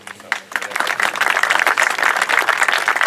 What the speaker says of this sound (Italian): l'applauso vale per tutti e due